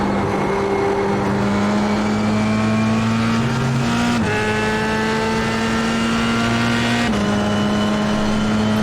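Formula 3 race car engines lapping Okayama in iRacing drone at a steady high pitch, with gear shifts and a second car's engine note layered close by, loud and continuous with no talk.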